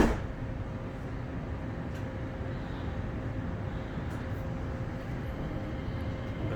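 A Qatar metro train rolls along with a steady, even rumble and hiss that holds at a constant level, heard from inside the carriage with faint clicks and no talk.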